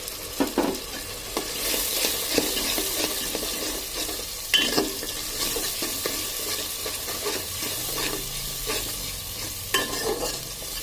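A paste of ginger, cumin, garlic and green chili fries in a pot while it is stirred for a meat and soybean curry. A soft, continuous sizzle runs underneath repeated scraping strokes of a spoon close by, and no voices are heard.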